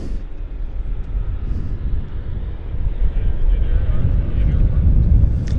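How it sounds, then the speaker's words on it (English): Air China airliner taxiing at Vancouver Airport, a low steady engine rumble that swells gradually toward the end, heard at a distance with wind buffeting the microphone. "there's the Air China taxiing out"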